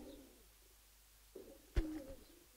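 A Giribaj pigeon gives a couple of soft, low coos in a quiet setting. They are faint and close, with a brief sharper rustle between them.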